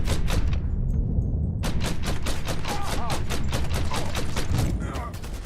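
In the Mafia 3 video game, rapid gunfire rattles out in dense bursts of automatic shots, loud and continuous apart from a short lull. Fainter voices talk underneath the shooting.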